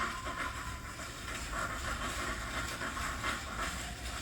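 Hair steamer running during a relaxer conditioning treatment, a continuous loud broadband hiss with gentle pulsing, close by and without speech.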